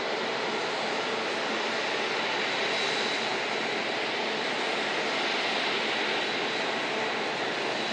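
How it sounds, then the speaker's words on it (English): An Airbus A380 jet airliner gives a steady, loud, broadband roar that holds evenly throughout with no break, heard on its own without any voices. "Hard to miss. Airbus A380."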